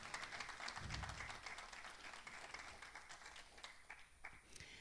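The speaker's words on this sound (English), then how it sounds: "Let's give him another round of applause." An audience applauds at a church gathering, a steady spread of many hands clapping at a modest, somewhat distant level that slowly tapers off, with no voices over it.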